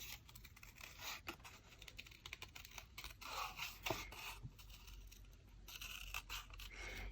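Scissors fussy cutting paper ephemera for a handmade junk journal, heard as close, quiet snips and scratchy paper rustles in an irregular rhythm.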